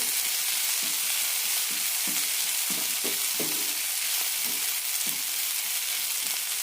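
A potato and fenugreek-leaf stir fry with garam masala sizzles steadily in a pan while a spoon scrapes through it in a regular rhythm of about a dozen strokes, close and clear.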